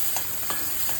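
Ground chutney paste sautés in hot oil with mustard seeds and curry leaves, giving a brief close sizzle broken by a few soft scrapes of stirring.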